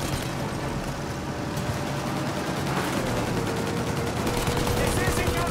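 Sustained rapid gunfire in Mafia Definitive Edition, aimed at a plane's engines as it takes off, crackles continuously under a droning engine roar, with raised voices mixed in.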